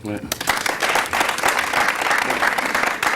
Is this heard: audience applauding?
yes